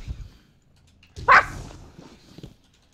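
A dog barks once in the Destiny 2 game, a short loud burst after quiet rumbling and soft game noise, with faint low sounds lingering afterward.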